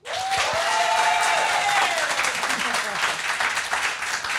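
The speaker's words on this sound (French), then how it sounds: "je vous demande de l'applaudir" Audience applause for a singer as she arrives on a French television music show, a dense burst of clapping from a studio crowd that starts abruptly and holds steady, with a brief swell of cheering and a faint tone mixed in.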